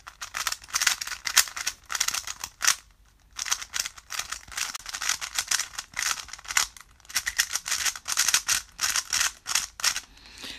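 A Moyu Aosu speed cube is turned rapidly near the microphone, giving dense bursts of sharp clacky plastic clicks in quick rattling runs, with a short pause partway through.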